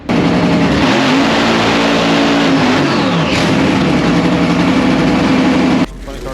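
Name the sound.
drag race car launching down the dragway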